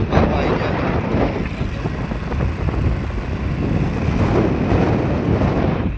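Steady engine drone and heavy wind rush from riding a motorcycle, loud and continuous throughout with no break.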